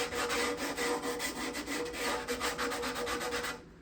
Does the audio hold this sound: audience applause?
no